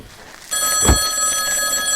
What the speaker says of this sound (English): I'm trying to turn this stupid ringer off.